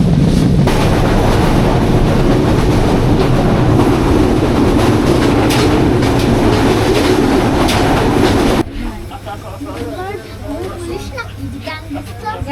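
The Jahanabad Express running at night between Dhaka and Khulna in Bangladesh, a loud continuous rumble and clatter of the carriages, easing to a quieter hum near the end.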